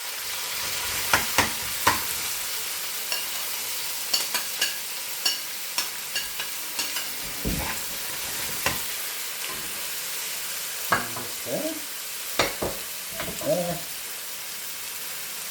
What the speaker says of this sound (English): Now I'm going to add the onions to the mixed hot oil.